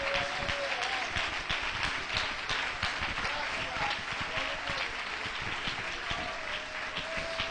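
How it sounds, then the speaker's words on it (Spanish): Church congregation applauding during an evening sermon, steady sustained clapping from a crowd with a voice speaking over it throughout. "Démosle ese aplauso al Señor en esta noche."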